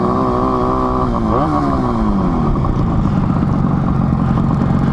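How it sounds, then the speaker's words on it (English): A 1966 Yamaha YL1 100 Twin Jet vintage two-stroke twin motorcycle engine idles close by with a steady buzzing drone, dipping briefly as the throttle shifts before settling back into a rough, even idle. "Listen to that engine."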